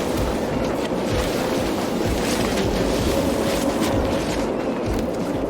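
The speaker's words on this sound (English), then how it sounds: "Every planet we're on is so windy." Steady wind blowing across an alien planet surface in the space exploration game No Man's Sky, a continuous broadband rush with no pauses or gusting breaks, heard alone at a constant level throughout.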